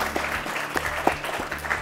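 A quiz-show audience claps for a school team, a short burst of steady, moderately loud crowd applause with an electrical hum beneath it.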